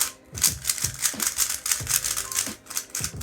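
Moyu WeiLong GTS3 M speed cube turned rapidly, a dense run of sharp plastic clacks and rattling clicks in quick uneven bursts, close and fairly loud with no talk.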